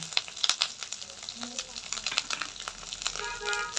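Coriander paste sizzles and crackles in a pan of fried spice paste for prawn malai curry, a moderate frying hiss with stirring clatter and scraping, while a voice talks over it.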